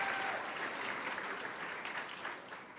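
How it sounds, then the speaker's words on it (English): An audience at a conference claps steadily in a warm, sustained round of applause that gradually fades slightly toward the end, with no voices over it. "Let's give another round of applause to Mayor Eric Adams."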